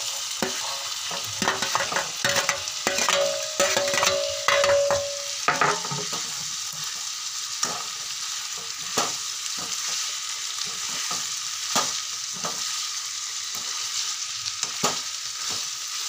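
Chopped tomatoes and green chillies fry in a pan, a continuous close sizzle broken by frequent sharp scraping and clinking strokes of a spoon, busier in the first few seconds; no one speaks.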